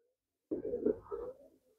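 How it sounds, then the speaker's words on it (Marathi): A pigeon gives a short, soft, low cooing call of a few throaty pulses, close and alone in otherwise quiet surroundings at a pigeon sale. "मस्त कबूतर."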